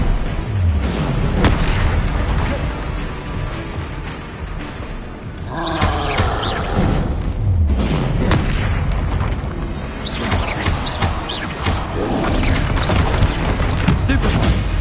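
Repeated Bombarda spell explosions in the Hogwarts Legacy video game, heavy booming blasts with roaring rumble that recur through a busy, loud combat mix with voices over them.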